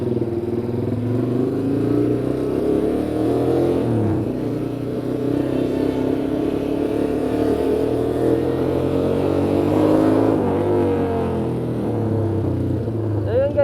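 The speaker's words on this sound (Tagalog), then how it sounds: "Nakabit pala sa atin ngayon ng muffler is SC Project." A motorcycle fitted with an SC Project aftermarket muffler idles and revs with a steady low rumble, swelling in a couple of throttle blips, while someone talks over it.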